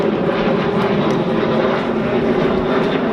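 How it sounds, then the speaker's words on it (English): A fixed-wing airplane passes overhead at an outdoor free-speech rally, its engine a loud, steady drone that fills the whole stretch with no break and no voices heard over it. "I'll let the plane pass."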